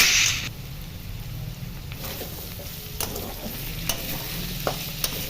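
Grated ginger being stirred into hot oil with spices in a pan while making a potato curry, giving a steady low sizzle with a few scraping stirs, close and alone.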